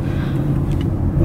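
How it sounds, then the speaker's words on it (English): A car on the move with a steady, close interior road rumble and engine drone, even throughout with no voices over it. "We're back in the car."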